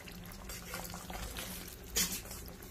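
Sauce for spicy buttered garlic chicken cooking in a pan, a soft continuous bubbling and simmering hiss, fairly quiet and near, with one brief brighter splash or sizzle partway through.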